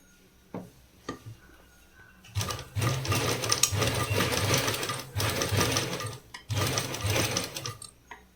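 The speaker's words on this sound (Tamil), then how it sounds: "ஒரு 1/4 இன்ச் டிஸ்டன்ஸில் நீங்கள் தையல் போட்டிங்கன்னா போதும்" A sewing machine stitches a sharp cup dart on the front piece of a blouse, running in two long steady bursts with brief ticks and pauses between them, close and clear with no talking.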